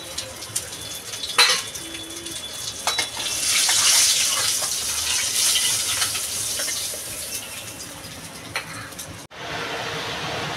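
Fried fish is lifted out of a pan with metal utensils, producing clattering scrapes and clinks over a steady frying and water hiss, close by, ending in an abrupt cut to quieter background.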